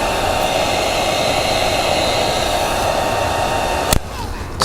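A heat gun warms chrome delete trim on a Toyota Grand Highlander Hybrid MAX front lower lip, giving a loud, steady, close airy blowing hiss that cuts off with a click near the end.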